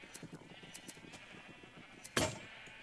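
Minecraft sheep bleat on a large semi-automatic sheep farm, a few faint, short calls spaced through quiet game ambience, then one brief louder burst near the end.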